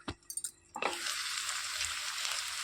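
Ivy gourd fry sizzles steadily in a covered pan, a loud continuous frying hiss that sets in after a few light clinks and taps at the start.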